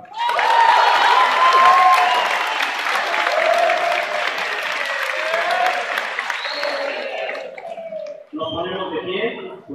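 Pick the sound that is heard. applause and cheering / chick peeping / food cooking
applause and cheering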